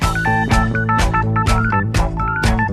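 Rhodes electric piano power chords from the second half of a song's solo pound out a busy syncopated pattern, bright upper notes flickering between the heavy hits, loud and close without any talking.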